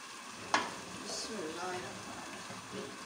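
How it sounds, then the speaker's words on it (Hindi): Semolina roasting in ghee in a pan for halwa, stirred with a spoon: a faint, steady scraping and low sizzle with one sharp clink near the start. "फिर मैं इसे भूनूँगी। घी इसमें ज़रा ज़्यादा डलता है"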